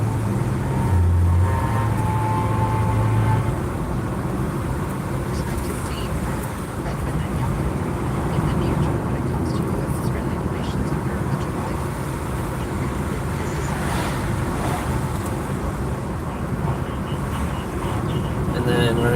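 A car driving down a Catskill Mountains road, its engine note rising and easing as it accelerates briefly and brakes into bends, a steady moderate drone heard beneath continuous talking throughout.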